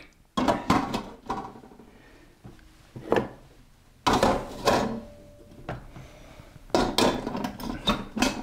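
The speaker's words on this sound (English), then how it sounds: "and put the pans back" Pans and fiddles clatter back into a wooden galley box, a series of sharp wooden knocks, scrapes and metallic clunks in irregular bursts with quieter rubbing between them, close by and without talk.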